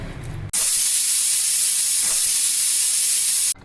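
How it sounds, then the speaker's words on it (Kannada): A pressure cooker releases its steam while cooking veg pulao: after a brief moment of background noise, a loud, continuous hiss starts abruptly, holds steadily for about three seconds, and then cuts off. "ಕುಕ್ಕರ್ ಪ್ರೆಷರ್ ಬಿಟ್ಟಿದೆ"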